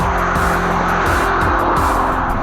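A 2017 Bentley Continental Supersports brakes hard on a track, its engine roaring loud and close while repeated gear-shift dips and tire noise run throughout.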